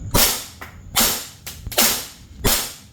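A gas blowback airsoft gun fitted with a T238 tracer unit fires four sharp, snappy shots at uneven intervals, each with a short hissing tail, close up and loud.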